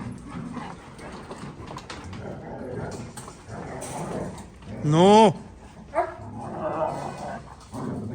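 A dog at a puppy breeder's home gives a sharp, rising yelp and whimper, then a short bark, under ongoing conversation between people.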